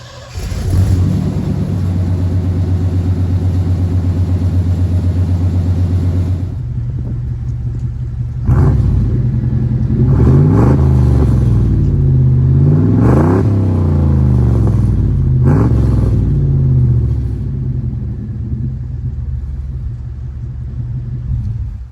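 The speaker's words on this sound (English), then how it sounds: "I'll do a cold start first and then a couple of revs so you can see what it sounds like" A beat-up 4x4 truck engine after a cold start idles with a loud, steady rumble, then is revved several times in quick surges that climb and fall back to idle.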